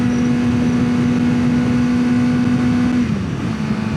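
A 600cc sport motorcycle cruises on the interstate in third gear, its engine holding a steady, loud drone before the pitch drops near the end as it eases off.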